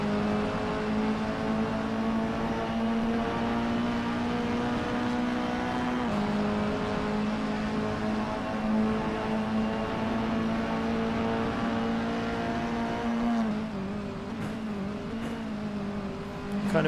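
Mini race car engine in a sim racing game, a steady loud drone of high revs with harmonic whine holding pitch, a brief dip and shift near the end.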